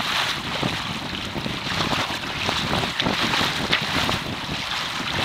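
Gusty wind buffeting the microphone aboard a Beaufort Melonseed sailboat on a wet sail, a constant loud roar with surging gusts and water wash, no talking.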